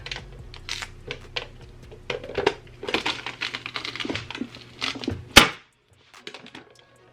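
A vegetable chopper cuts through a piece of cabbage in a quick series of sharp crunches and clacks, ending in one loud snap followed by quieter rustling.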